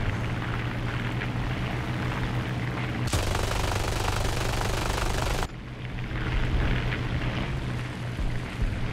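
Bursts of aircraft machine gun fire from a Fokker D.XXI in an arcade air battle in War Thunder, rattling over a steady engine drone, with a sharp change in the sound partway through.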